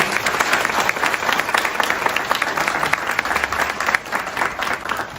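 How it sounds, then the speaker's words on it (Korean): Sustained applause from a large audience at a Korean political forum, steady dense clapping that continues for several seconds without voices. "큰 박수 부탁드리겠습니다"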